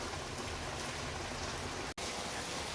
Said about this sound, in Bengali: ঝিরঝির করে বৃষ্টি হয়েই যাচ্ছে